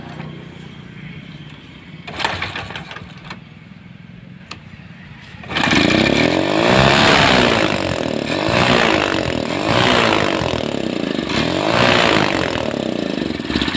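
A Honda Livo motorcycle engine catches after some faint rattling and thumps, then runs loudly and steadily with a rhythmic, slightly pulsing idle, close by.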